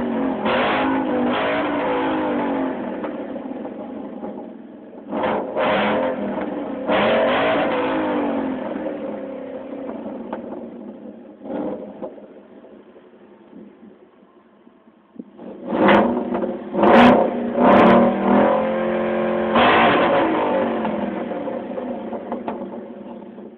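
A 2011 Mustang GT fitted with a Corsa exhaust rumbles loudly nearby in a driveway, with repeated throttle blips and a burst of hard revs climbing and falling near the end.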